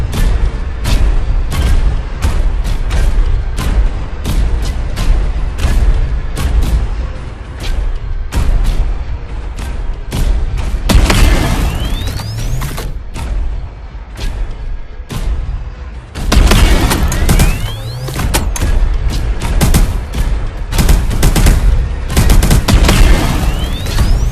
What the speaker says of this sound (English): Try targeting and firing on this training bot.